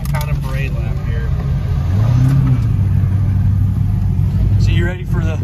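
A big pulling truck's engine rumbles loud and low during a parade lap at a truck pull event, swelling into a deeper rising rev midway, while people talk close by over it.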